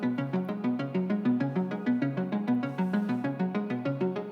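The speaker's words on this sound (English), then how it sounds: "Chorus 2 also adds in this arpeggiator." A synth arpeggiator in a song chorus plays fast, even, repeating plucked notes that step in a regular tonal pattern, steady and clear with no voices.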